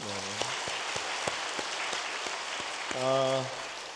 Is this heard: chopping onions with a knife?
no